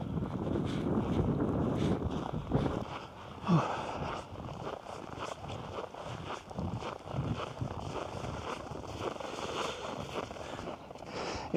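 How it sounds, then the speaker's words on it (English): Strong gusty wind buffets the microphone out on a frozen lake during winter camping in Västra Götaland, Sweden, a steady roar with faint crunching steps beneath. "It was a lot windier on the lake than I expected."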